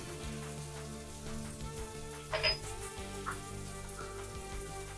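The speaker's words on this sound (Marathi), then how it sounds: "आता हे चांगले फ्राय करून घेऊ 2-3 मिनिटं. आणि हे फास्ट गॅसवरच फ्राय करायचे" Chopped capsicum, green chilli, garlic and ginger frying on high heat, a faint, steady sizzle with light crackling and a brief clink of stirring, no voices.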